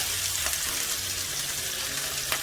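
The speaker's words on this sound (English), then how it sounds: "And this is about 3 cloves of garlic that I'm adding. And I'm sauteing this in the oil." About three cloves of garlic and broken-up onions saute in hot oil, giving a dense, continuous crackling sizzle close up, with a faint stir near the end and no talking.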